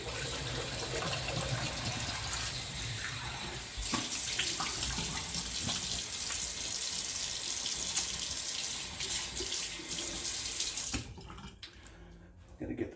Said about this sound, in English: Okay, let's do a cold rinse.